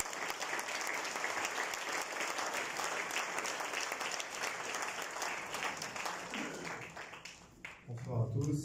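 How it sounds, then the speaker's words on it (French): An audience at a book launch applauds to welcome the author, sustained dense clapping from a crowd filling the room, fading near the end as a voice begins speaking. "on demande à l'auteur de venir sur vos applaudissements"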